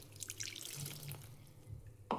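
Water being poured from a glass into a bowl of flour for dhapate dough, with soft trickling and dripping, a brief splash at the end, and no voices.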